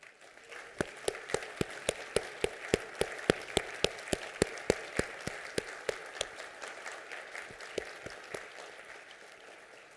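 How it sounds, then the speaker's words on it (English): An audience at a medical school award and portrait ceremony applauds the portrait artists, steady applause with a few sharp, rhythmic claps standing out clearly over the crowd before gradually easing off. "Could you please stand and get our applause?"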